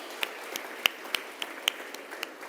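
Scattered hand claps from a church congregation applauding, a handful of sharp separate claps spaced irregularly over a quiet background rather than a full ovation.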